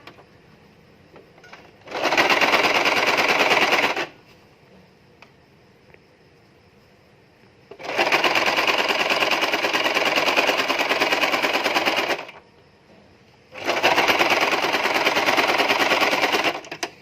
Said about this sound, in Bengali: এখন আমি এইভাবে একটা ফোল্ড করে আবার একটা ফোল্ড করে সেলাই দিয়ে দিব